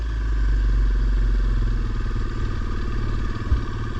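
A dirt bike engine runs close by with a steady, low mechanical rumble and slight rises from a small amount of throttle, with no talking.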